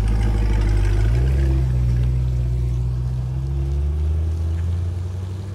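A C8 Corvette cold starts in sport mode, its engine holding a loud, steady low rumble that steps up slightly in pitch and then settles into a constant high idle throughout.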